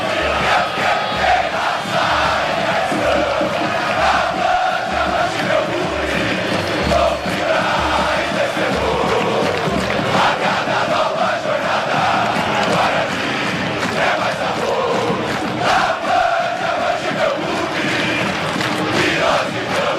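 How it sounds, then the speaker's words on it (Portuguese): Supporters at Canindé stadium roar and chant the Guarani anthem during a Campeonato Paulista match, a loud, dense, continuous mass of voices with a rhythmic pulse of drumming underneath. "o pessoal tá cantando o hino do Guarani, Edu, aqui no Canindé."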